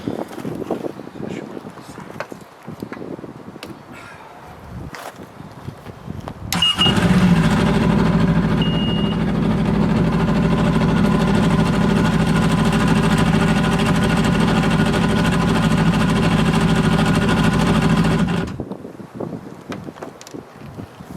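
A 2002 Yamaha FX 140 personal watercraft engine cranks and catches, then idles loudly and steadily for about ten seconds before shutting off, with wind noise and quieter surroundings before and after.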